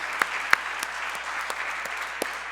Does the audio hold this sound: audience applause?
yes